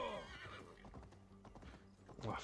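Horse hooves clip-clop in a steady gait under a few neighs and whinnies from a skittish mount in Assassin's Creed Valhalla, close and fairly loud against ambient game sound.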